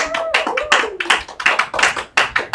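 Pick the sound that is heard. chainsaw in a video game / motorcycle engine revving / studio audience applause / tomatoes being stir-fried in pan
studio audience applause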